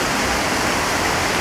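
Clear, icy mountain river water rushing at the source of the Drina, a loud, dense, continuous roar of flowing water heard close up with no talking.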